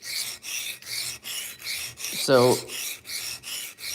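A knife is sharpened on a diamond stone, with rhythmic rasping strokes of steady tempo, about ten in four seconds. A brief spoken word cuts in midway.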